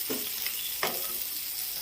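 Onion paste sizzles faintly in a pan for a Bengali prawn malai curry, with a couple of scraping strokes of the spoon as it is stirred.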